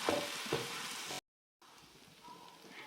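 Mung bean filling for Thai khanom tian is stir-fried in a pan, giving a soft sizzle with scraping stirs, briefly cut off, then resuming quieter.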